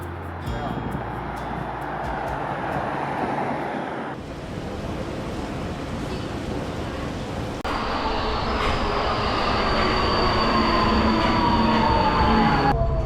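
A Budapest subway train rumbles steadily through a tunnel or station, with a rising mechanical whine and broadband roar, loud and continuous, while faint voices murmur underneath.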